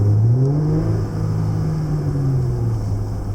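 A Jeep Wrangler JL fitted with a HikeIt throttle controller accelerating, a deep engine drone rising and falling in pitch as it revs, heard loud from inside the cabin with no one talking.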